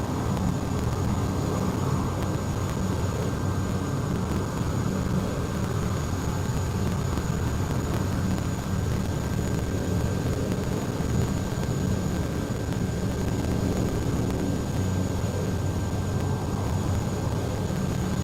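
Otter propeller aircraft taxiing toward a runway in Microsoft Flight Simulator, a steady loud engine drone with a constant whine running unbroken and close throughout.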